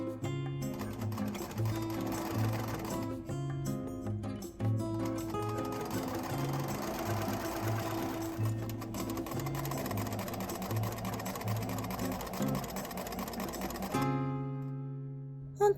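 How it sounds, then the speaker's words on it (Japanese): A sewing machine runs almost nonstop, stitching kimono-fabric wide pants to their waistband, with a loud, even mechanical whir and rhythmic needle tapping before stopping near the end. "先ほどつけた印と位置が合うようにピンで固定して縫い代1センチで縫い合わせます"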